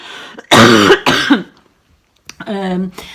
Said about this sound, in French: je vous demande pardon pour mes petits accès de toux